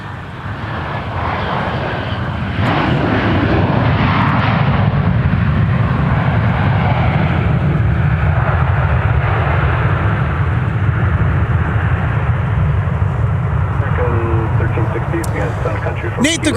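An American Airlines airliner, flight 2104 from Dallas Fort Worth, arrives at Minneapolis–St. Paul Airport with a loud, sustained jet engine roar that swells and holds for many seconds, and a voice talks over it.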